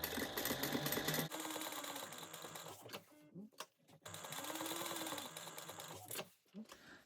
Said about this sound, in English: because it's vinyl, I'm going to sew around again at 1/8 of an inch